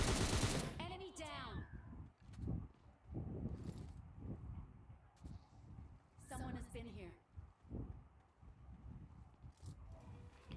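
Gunfire in the battle-royale video game PUBG Lite: sharp bursts of automatic shots near the start and again around the middle, heard under steady talking throughout.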